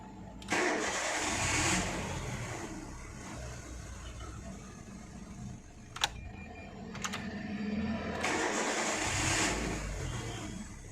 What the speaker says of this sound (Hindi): अभी गाड़ी स्टार्ट हो रही है, प्रॉपर एक ही सेल्फ में हो रही है।